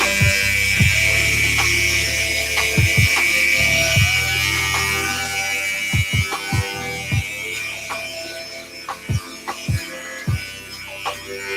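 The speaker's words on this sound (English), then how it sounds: "Now, using the 5-star finale shaver, I will apply light pressure around the lower areas" A Wahl 5-Star Finale electric shaver buzzes steadily during a haircut, a close continuous hum with brief clicks and handling knocks scattered through.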